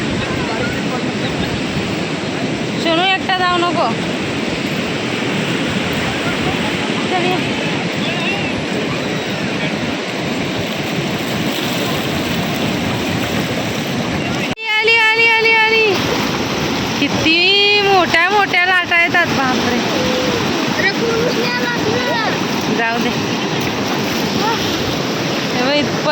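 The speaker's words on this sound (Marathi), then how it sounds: "किती मोठी लाट आणि इथपर्यंत येते" Loud, continuous surf roars throughout at Shrivardhan beach in the evening, with waves rushing and splashing close by; voices talk and exclaim over the water noise midway through.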